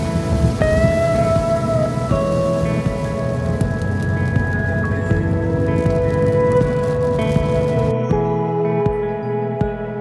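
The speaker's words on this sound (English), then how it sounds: "it did start raining about 10 minutes into the drive" Rain drumming on a car during a drive, a dense steady patter close around the vehicle with scattered louder drops, under a low road rumble and a few faint tonal beeps.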